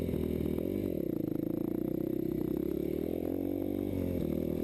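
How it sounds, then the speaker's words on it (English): A Yamaha YZ250F motocross bike runs with a steady low engine drone and rapid mechanical clatter, close and continuous, dipping briefly near the end, with no talk. "Okay, so starting the bike back up here."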